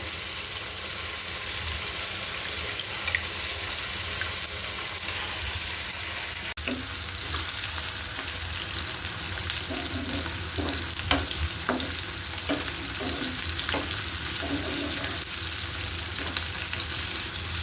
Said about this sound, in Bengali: কিছুটা টাইম লাগবে ব্রাউন কালার হতে। পেঁয়াজ আর রসুন কিন্তু বেরেস্তা হয়ে গিয়েছে।